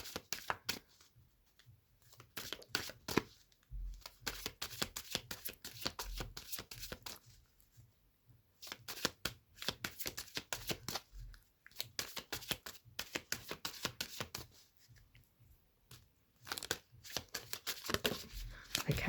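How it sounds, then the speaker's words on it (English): Mystic Mondays tarot deck being shuffled by hand: a long run of crisp riffling and card-slapping bursts in uneven rhythm, close and fairly quiet, with short pauses between passes. "So I'm just going to begin shuffling."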